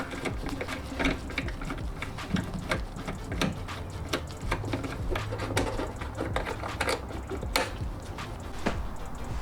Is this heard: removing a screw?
yes